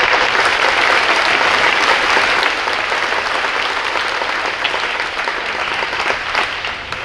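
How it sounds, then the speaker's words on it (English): Audience applause at a high school spring pops concert, a dense, steady wash of clapping from a large crowd that holds loud throughout with only a slight easing toward the end. "then you can give them an applause"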